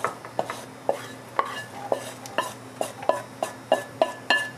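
A spoon stirs chunky homemade salsa ingredients in a pan, making about a dozen evenly spaced, fairly close scraping clacks in a steady rhythm against a faint background hum.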